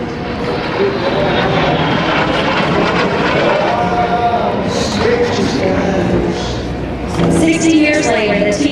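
A T-33 jet trainer roars past at an air show with a loud, steady engine whine that shifts in pitch and builds toward the end, with a voice talking over it.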